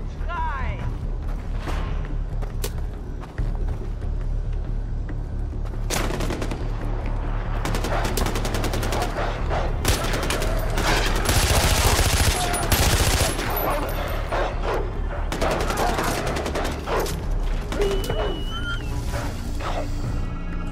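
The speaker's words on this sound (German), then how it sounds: "Schüsse! Aber von wo?" Gunfire in the video game Far Cry 4 at a camp of the Golden Path, with bursts of rapid machine-gun fire and scattered single shots, loud and near, mixed with a voice and game sounds.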